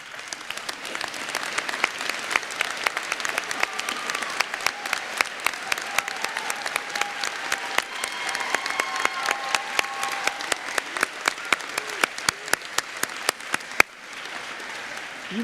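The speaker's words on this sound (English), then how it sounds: "as they stand to receive your applause" A large audience at a college graduation ceremony claps steadily and warmly for several seconds, a dense patter of hands that fades out near the end.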